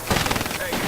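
Rapid machine-gun fire and explosions from the Titanfall video game on Xbox 360 rattle on in a dense, loud burst, with a voice faintly underneath.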